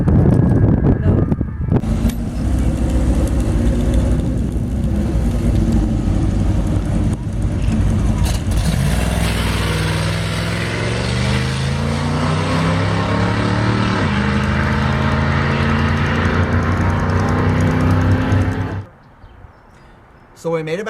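A 1989 Dodge van with a Mopar 360 small-block V8 runs a quarter-mile drag strip pass, its engine droning loudly and rising through the gears over roughly eighteen seconds before cutting off, with voices talking over it.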